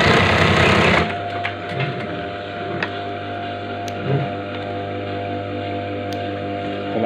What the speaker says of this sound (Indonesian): sini kita bikin jahitan bantu di tengah-tengah dari garisnya biar enggak geser